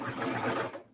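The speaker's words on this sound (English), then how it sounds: "I'll just go back and sew that again on the sewing machine" Sewing machine stitching a seam on a dress, a fast, close mechanical whirr of needle strokes for about a second before cutting off.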